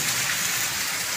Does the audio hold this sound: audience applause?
no